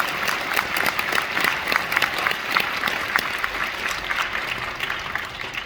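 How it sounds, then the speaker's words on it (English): An audience applauds the Garden Grove Unified School District honor orchestra at a school concert, with dense, steady clapping from a crowd that fills the whole stretch before slowly thinning. "let's give them another round of applause"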